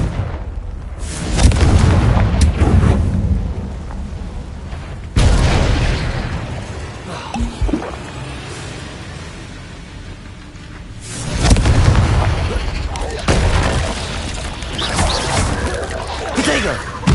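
Confringo fire spells exploding in the Hogwarts Legacy video game, a few loud booming blasts with rumbling decays, one after another, close and heavy, with a voice calling out between them.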